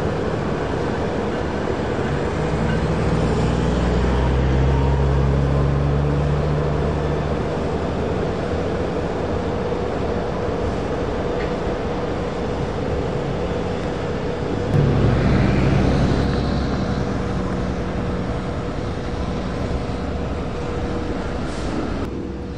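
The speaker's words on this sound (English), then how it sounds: "Coming south, this is an NS local returning back to Gainesville." A southbound Norfolk Southern local freight train returning to Gainesville rolls past with a loud, steady rumble and grinding wheel noise that swells again toward the middle, with no voices.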